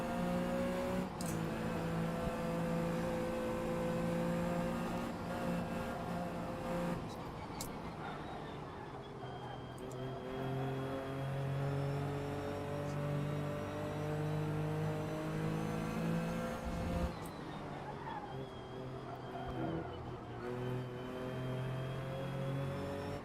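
Simulated race car in the Assetto Corsa sim racing game, engine droning and shifting pitch steadily through a corner as power comes on, with a voice talking over it throughout.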